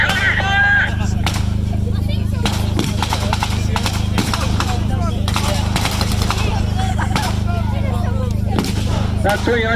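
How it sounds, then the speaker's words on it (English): A WW2 re-enactment German half-track crew fires blank rounds in defence of their position, sharp distant cracks scattered through the clip over a steady engine drone and crowd noise, with a voice talking throughout. "German half-track crew laying down some defensive fire on their point"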